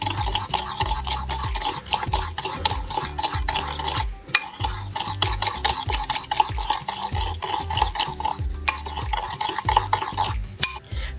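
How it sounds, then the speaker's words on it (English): A metal measuring spoon stirs cinnamon into sugar in a bowl for snickerdoodle cookies, a busy scraping and clinking rhythm of rapid strokes, close and loud, with a couple of brief pauses. "So here's 1 teaspoon of cinnamon. Here's the 2nd. And you're going to mix that."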